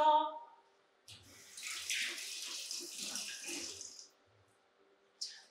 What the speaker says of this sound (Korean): 이렇게 살짝 데쳐서 찬물에 한번 헹궈서